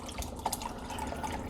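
Broth poured into a pot of risotto, a short continuous splashing, trickling pour of liquid heard close up with no talking.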